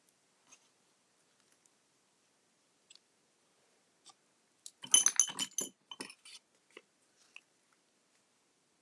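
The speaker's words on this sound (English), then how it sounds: "now I'm just going to trim those ends" Scissors trimming the loose ends of a tied knot, a quick cluster of crisp close snips and clicks in a quiet room, followed by a few faint scattered taps.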